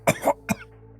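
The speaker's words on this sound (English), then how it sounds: "He is coughing blood." A person coughing up blood gives three sharp coughs in quick succession, close and fairly loud, followed by quiet.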